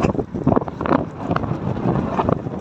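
Strong wind buffets the microphone in a steady, loud roar with gusty surges throughout.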